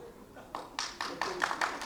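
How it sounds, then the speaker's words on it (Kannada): A handful of hand claps from an audience at a political speech in Shivamogga, a quick irregular burst of sharp claps growing a bit louder, with someone talking underneath. "ಬೇಡ ಬೇಡ, ಚಪ್ಪಾಳೆ ಹೊಡಿಬೇಡಿ"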